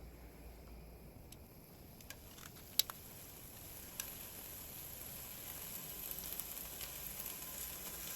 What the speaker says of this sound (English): I'm just going to be searing this beef with a little bit of salt on it